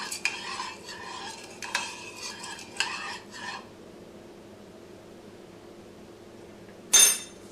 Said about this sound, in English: Stir to dissolve the sugar.